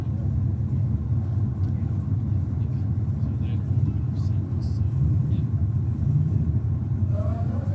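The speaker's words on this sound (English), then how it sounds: "HK obviously hasn't raced for a little while, but out here gives it a good strong burnout" A V8 Commodore drag car does a strong burnout at Sydney Dragway, a steady loud engine rumble that holds for the whole stretch while a commentator talks over it.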